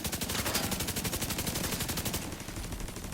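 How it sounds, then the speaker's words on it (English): A robot's minigun fires in The Division 2, a loud, sustained stream of very rapid, evenly spaced shots that rattles on without pause, thinning slightly near the end. "they have really these mini guns attached to them"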